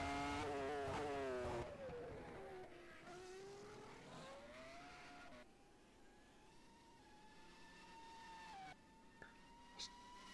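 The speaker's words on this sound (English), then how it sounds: "turn 12, and up the straight, just keep accelerating, full throttle here up" A race car in the rFactor sim racing game, FSR World Series at Brasil, revs at full throttle with rising, shifting engine tones, fairly faint, with the pitch climbing through the gears.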